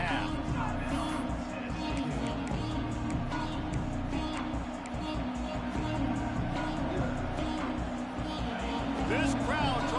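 A college football stadium crowd roaring steadily from a distance, a dense wash of cheering and noise that runs throughout with a commentator talking over it.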